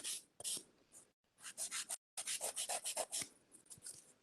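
A file rasps over gel polish on a nail in quick, repeated close strokes, soft and scratchy, in short bursts with brief pauses.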